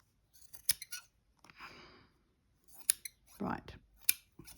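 Scissors cut through fabric for a small travel-kit pin cushion, giving a few crisp, close snips spaced across the moment, with a brief voice murmuring between cuts.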